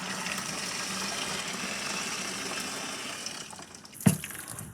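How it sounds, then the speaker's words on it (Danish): Boiling water poured into a plastic home-brewing bucket to sanitise it, a steady rushing liquid pour lasting several seconds before tapering off, then a sharp knock near the end. "Det gør jeg simpelthen bare ved at hælde det kogende vand ned i spanden."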